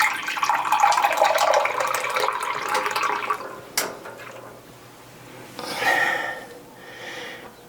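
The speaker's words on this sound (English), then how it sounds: "I'm going to go over to my water Patriot and get 1 cup" A Water Patriot dispenser pours water into a measuring cup in a home kitchen, a steady splashing stream that stops with a sharp click, followed by a couple of short, softer spurts.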